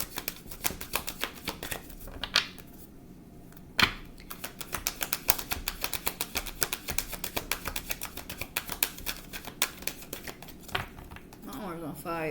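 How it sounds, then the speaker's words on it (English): A deck of cards is shuffled repeatedly in fast, rhythmic riffles and taps, close and crisp, continuing steadily for several seconds under quiet background sound, with a person talking near the end. "burning up while I'm shuffling these damn cards"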